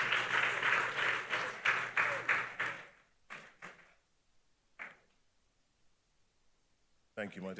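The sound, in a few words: audience applause for an award winner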